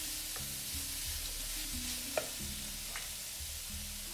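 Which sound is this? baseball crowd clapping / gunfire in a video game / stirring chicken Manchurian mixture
stirring chicken Manchurian mixture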